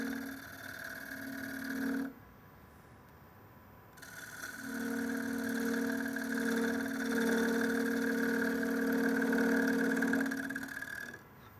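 Wood lathe spinning a wooden yarn bowl while a shear scraper works the curve, a steady mechanical hum with a pause around two to four seconds, then continuous tonal whirring with faint scraping, no talk.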